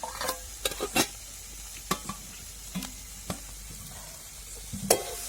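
Onion sautéing in a pan for a dal kanda dish, with a quiet sizzle under several sharp scrapes and taps of a spoon stirring at irregular intervals.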